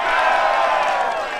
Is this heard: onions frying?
no